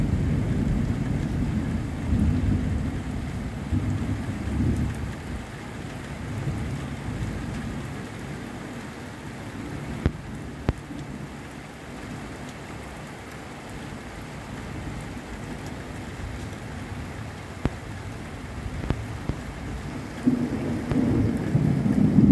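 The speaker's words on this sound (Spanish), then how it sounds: "Parece que es una lluvia muy tempestosa" Heavy thunderstorm rain pours steadily at night in Colima, Mexico, while low thunder rumbles roll through in the background, with occasional sharper drips and taps nearby.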